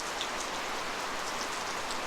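Steady rain falls outdoors at a house gate in the Philippines, a dense, even hiss of drops on surfaces lasting throughout, close and moderately loud with no voices.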